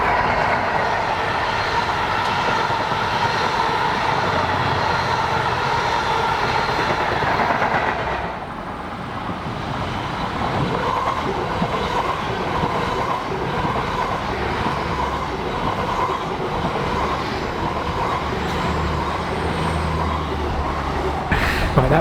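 A train passes on the railway line in South Devon, a loud, continuous rolling roar with rhythmic wheel clatter that dips briefly midway and then surges on, close by.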